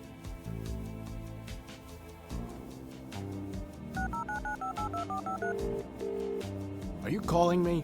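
Phone keypad tones beep in short, evenly spaced runs within the video game Resonance, over quiet game music, ending with a rising electronic chirp.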